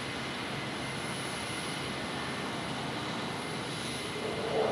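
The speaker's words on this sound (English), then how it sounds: "There was a missile coming off of the F-22." F-22 Raptor fighter jet firing a missile, heard as a steady, loud roar of jet engine noise that swells slightly at the end, with no talking.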